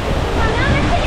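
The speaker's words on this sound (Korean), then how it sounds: "여기는 폭포 뒤를 들어가는 게 메인이었어" An Icelandic waterfall roars in a dense, steady rush, heard up close from the path behind the falling water.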